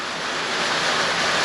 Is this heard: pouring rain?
yes